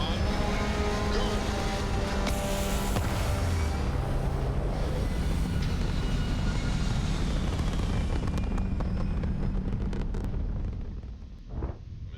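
A spaceship lifts off in the video game Starfield, its engines swelling into a loud, steady roar and rumble that sustains for several seconds before thinning out and fading near the end.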